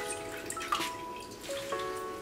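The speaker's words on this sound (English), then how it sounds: "So I'm basically just squeezing all the liquid that you can see pouring out of it." Liquid dripping and trickling from squeezed marmalade fruit pulp for a Scottish Dundee marmalade, irregular close wet drips and small splashes with faint ringing tones, fairly quiet, no talk.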